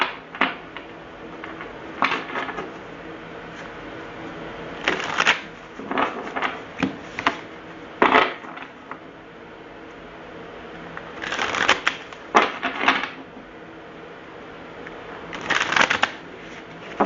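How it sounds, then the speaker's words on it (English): Tarot cards being shuffled by hand, close up, in irregular bursts of riffling and sliding with short pauses between, fairly quiet with no talking. "Let me give them a shuffle."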